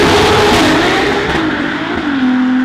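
A Ferrari 296 six-cylinder with a Novitec exhaust revs in a loud, close burst. The engine note dips and climbs between throttle blips, with no voices over it.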